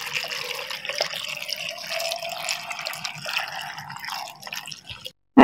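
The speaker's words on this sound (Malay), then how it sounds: "Kita masukkan air sejuk" Cold water poured over chunks of guava and ice cubes for guava juice, a steady splashing, trickling pour that runs close and continuous before stopping abruptly, followed by a brief loud clunk.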